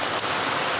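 Heavy rain in Marinduque pours down as a dense, steady wash of hiss, loud and unbroken for under a second.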